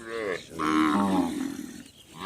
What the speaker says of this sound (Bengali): কত সুন্দর সুন্দর ছোট ছোট বাছুর পদ্মা নদীর চরে